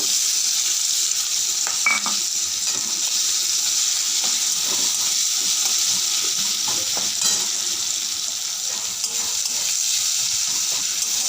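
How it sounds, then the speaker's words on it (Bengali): Onions frying in a pan give a loud, steady, close sizzle throughout, with occasional stirring scrapes and soft knocks underneath. "পেঁয়াজ দিয়ে দেব।"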